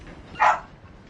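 A female dog lets out a single short bark indoors, moderately near, rising sharply and fading within half a second against a quiet room background.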